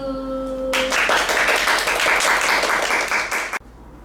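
Young children at a Sunday worship service applaud in a steady burst of clapping lasting about three seconds, which then cuts off abruptly. A faint tone lingers just before the clapping starts.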